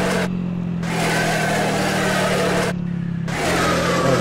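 A Honda ADV 150 scooter-style motorcycle in a GTA San Andreas real-life mod revs loudly and steadily, a strong mid-pitched engine drone that dips briefly twice before climbing again.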